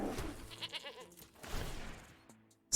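Goat tokens bleating inside the Magic: The Gathering Arena digital card game, several short wavering bleats overlapping over roughly two seconds, moderately loud, followed by a brief sharp burst at the end.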